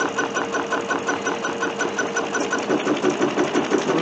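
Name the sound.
sewing machine quilting with navy blue thread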